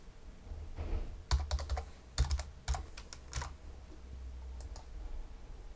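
A username and password are typed on a computer keyboard in quick, close bursts of clicky keystrokes separated by short pauses, with a few final taps trailing off.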